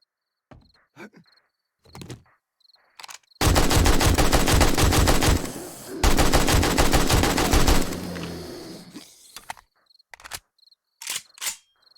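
An AK rifle fires in 7 Days to Die at dusk against zombie bears: two loud, sustained bursts of rapid automatic fire over about four seconds with a short break, framed by sparse softer clicks and thuds before and after.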